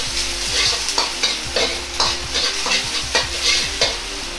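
Meat and ginger stir-fried in a hot pan for black fried rice: a loud, continuous sizzle with a rhythmic scrape and clatter of a spatula tossing the contents about twice a second, close up.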